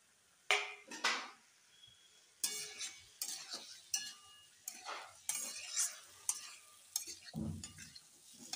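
Cauliflower with turmeric, salt and spices sautéed in a pan, with intermittent scraping stirs and clinks of a spoon against the pan over a light sizzle, in close, uneven bursts with brief pauses.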